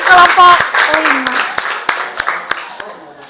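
Applause for a student group in a classroom session, beginning under a voice and thinning to scattered individual claps that fade out.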